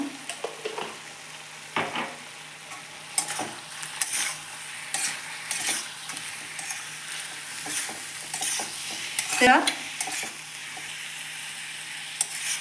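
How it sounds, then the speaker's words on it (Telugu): Spicy chicken curry fries in a pan on low flame, sizzling steadily while a utensil scrapes and stirs through it in irregular strokes, close and clear with no talking. "సేమ్ లో ఫ్లేమ్లో ఫైవ్ మినిట్స్ బాగా వేయించుకోవాలి కలుపుకుంటూ"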